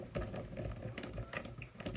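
A Phillips screwdriver turns out the screw of a suction cup mount, giving a quiet, fast run of small clicking and ratcheting ticks with no voices.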